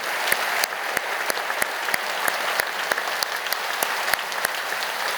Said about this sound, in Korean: 찬양해 주신 모든 분들에게 큰 박수로 감사를 표하시고요